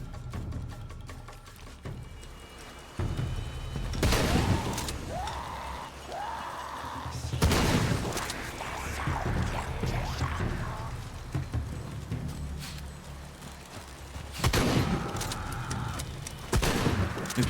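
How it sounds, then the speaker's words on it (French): Gunfire in the Shadow of the Tomb Raider video game: bursts of shots ring out in clusters across a noisy battle scene, loud and close, with game sounds filling the gaps and no talk. "Qui est-ce qui me tire dessus là?"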